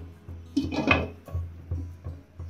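A lid set down over a kadhai while baking an eggless chocolate cake, a short clattering metal clink followed by a few light knocks and taps of the pot, close and fairly quiet.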